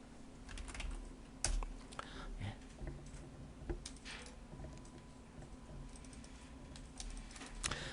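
Computer keyboard keys are typed in short irregular bursts while a layer is named in Photoshop, close and crisp over a steady low hum, with no talking.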